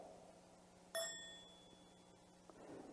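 A single meditation bell struck once, ringing out clearly with a bright tone that slowly fades over a quiet, humming room.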